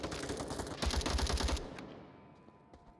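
Rapid automatic gunfire in the VR shooter Onward, a tight burst of about six punchy shots followed by a fading echoing tail, moderately distant and without talk.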